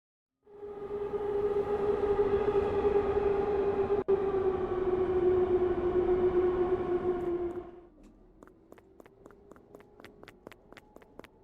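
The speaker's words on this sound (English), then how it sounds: "That sounded like the train was on the left to me." A train horn or a long siren-like tone holds loud and steady for about seven seconds and then cuts off. Rhythmic wheel clatter follows as the train passes.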